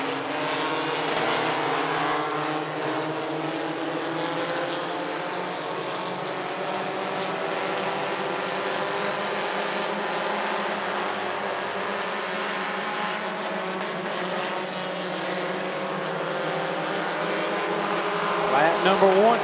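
Race cars roar around Wythe Raceway during the final feature of a weekly divisions night. The engine drone is loud and continuous throughout and swells slightly near the end.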